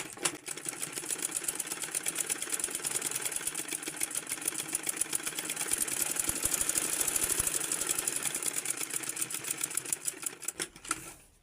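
A sewing machine stitches a blouse, a rapid, steady mechanical chatter of needle strokes running continuously and close at hand, with no talking.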